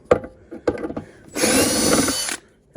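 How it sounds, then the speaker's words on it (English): A power drill zips screws out of a light fixture being scrapped for copper, aluminum and tin, one loud steady whir of about a second after a few knocks and taps on the fixture. "trusty drill"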